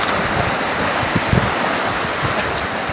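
Waves washing onto the shore of Lake Sevan in Armenia, a steady broadband surf wash with wind buffeting the microphone, loud and close, no voices.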